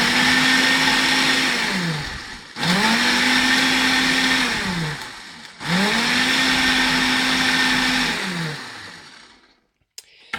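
A Ninja blender pulses an IsaLean meal replacement shake in three loud, sustained bursts, each with a rising then falling motor whine and brief gaps between, then stops abruptly near the end.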